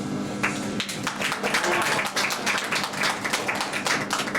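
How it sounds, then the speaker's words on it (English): Audience applause for a potter who has just finished a vase at a pottery factory in Lindos old town, scattered claps rising into steady clapping, fairly close and continuous. "A big clap for him."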